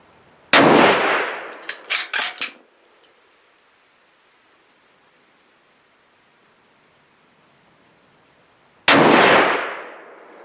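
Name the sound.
gunshots from a Thompson/Center LRR .308 rifle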